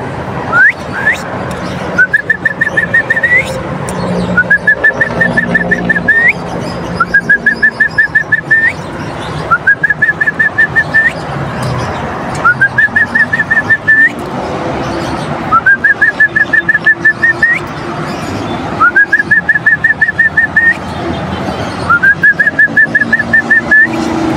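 A whistle is blown again and again to call homing pigeons outdoors, each blast a short rising tone followed by a warbling trill, repeating roughly every two to three seconds, loud and close, with faint background noise.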